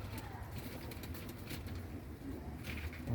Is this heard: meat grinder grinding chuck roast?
no